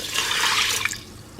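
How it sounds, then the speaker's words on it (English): Water pours into a pot of washed rice, a steady splashing hiss that tapers off near the end. "We're gonna add water to it."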